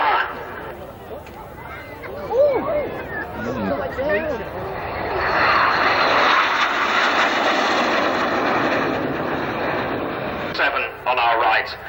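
Display team jets, a synchro pair, fly at the 1991 Leicester airshow, a distant roar that swells and fades behind a commentator speaking over the public address with crowd babble.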